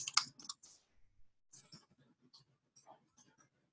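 Typing on a computer keyboard, a handful of sharp clicks clustered at the start followed by sparse, faint taps scattered across a quiet room.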